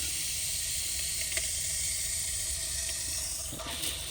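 A steady, fairly quiet hiss of water rushing into a 48,000-grain water softener tank, with faint creaks and a couple of soft clicks.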